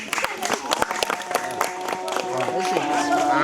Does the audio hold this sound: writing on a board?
no